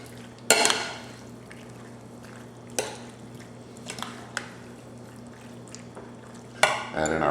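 Macaroni salad with elbow macaroni and imitation crab meat stirred in a bowl, with a few sharp utensil knocks against the bowl and soft scraping in between under a low steady hum.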